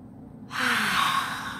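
A single deep breath drawn in through the nose and mouth, a soft airy inhale that swells and holds steady for about a second, close and alone, during a calming EFT tapping exercise.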